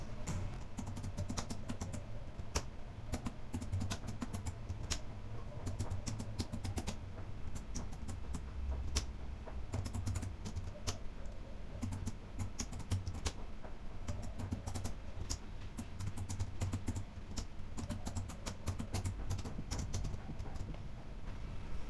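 Continuous typing on a computer keyboard, rapid irregular clicks and keystrokes close by over a low background hum, with no voice.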